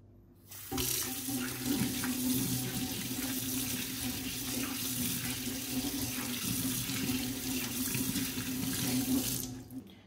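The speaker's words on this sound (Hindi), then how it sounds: "हम अपना हैंड वॉश कर लेंगे" Tap water runs steadily into a sink while hands are washed under the stream after handling fruits and vegetables, a continuous close splashing rush that starts abruptly and fades at the end.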